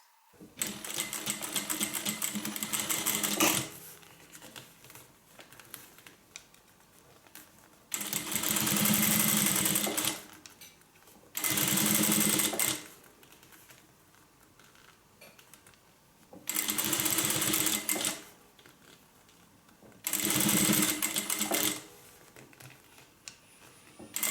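A sewing machine top stitching both sides of a one-inch strap, buzzing in five separate bursts of several seconds each, close and loud, with quiet pauses between.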